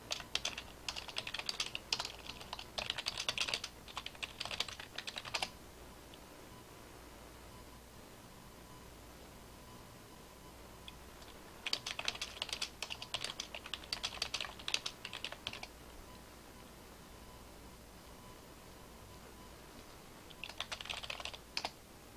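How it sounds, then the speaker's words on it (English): Typing on a computer keyboard comes in three bursts of rapid soft key clicks separated by quiet stretches, close and faint, with no talking. "I'll just type it here, it's faster."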